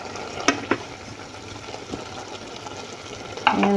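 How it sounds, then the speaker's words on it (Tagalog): Chicken gizzard being sautéed in a pan at home gives a soft continuous sizzle, broken by a few sharp clicks and scrapes of stirring, with no voices. "Ginisa-gisa ko lang naman yung gizzard na yan or batikolon."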